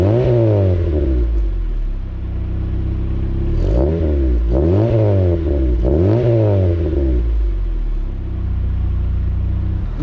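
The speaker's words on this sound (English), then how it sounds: "let's see how this car sounds like" A tuned turbocharged wagon running about 4-5 psi of boost and making 125 horsepower revs hard several times in a row. Each rising and falling engine sweep sounds close and loud over a steady idle rumble.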